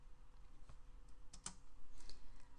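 Typing on a computer keyboard: a few faint, sparse key clicks spread over a couple of seconds, quiet and close, against a low background hum.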